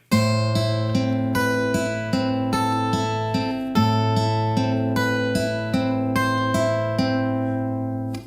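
A steady, evenly plucked classical guitar melody of Romance d'Amour over repeating bass notes, clear and close, notes ringing into each other at a moderate pace.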